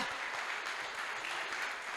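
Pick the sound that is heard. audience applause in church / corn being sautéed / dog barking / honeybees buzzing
audience applause in church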